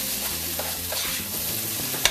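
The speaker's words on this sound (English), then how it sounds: "So I got that in there, mixing it all up" Pelau ingredients with instant brown rice mixed in a pot on a stove at medium heat, a dense continuous sizzle with soft stirring scrapes and a sharp clink near the end; no talking.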